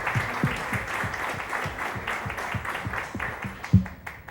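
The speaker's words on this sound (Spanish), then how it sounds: "Quisiera pedir un fuerte aplauso a Armando Ríos Peter, por favor" An audience at a live comedy roast event applauds, a dense wash of clapping with some distinct nearer claps, holding fairly steady for several seconds before thinning toward the end.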